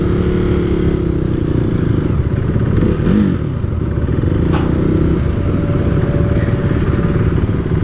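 Steady, loud single-cylinder drone of a KTM 390 Duke motorcycle engine on a demo ride, rumbling continuously close-up with some clatter and wind, no talk.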